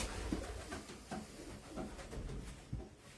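A racing pigeon gives soft, low coos a few times, faint and near, with light handling knocks around it in an otherwise quiet space.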